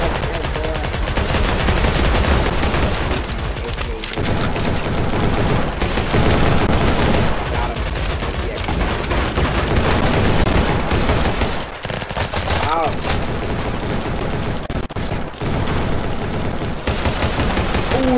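Gunfire in the online shooter BattleDudes.io, loud and nearly continuous, with rapid automatic bursts and repeated shots layered densely over the whole stretch.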